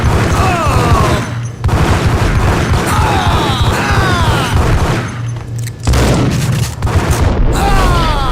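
Gunfire in the Max Payne video game, with repeated loud booming shots and bursts of rapid fire over a dense, noisy battle bed, broken by a couple of brief lulls.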